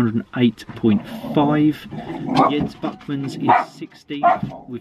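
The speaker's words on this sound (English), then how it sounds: "I do apologise about the dogs, guys." Dogs barking and yapping excitedly in the background of a home, intermittent and partly masked by someone talking continuously over them.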